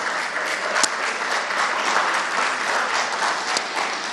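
Sustained applause from a gubernatorial election debate audience fills the room, a thick and even roar of many clapping hands holding steady throughout.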